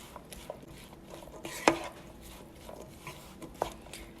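Frozen mixed vegetables, microwaved, are stirred into a filling for baked kubba, giving soft scraping and clattering in a bowl with one sharp clink partway through and a smaller one near the end.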